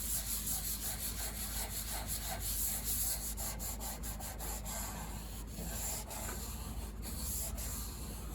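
Sandpaper rubs steadily back and forth over the old finish on an 1867 Chickering 33B piano case, a close, continuous scratchy hiss with even strokes and no talking.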